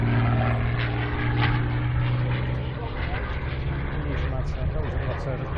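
A Supermarine Spitfire propeller aircraft at an airfield air show, its engine droning loud and steady with a strong low hum, someone talking over it throughout.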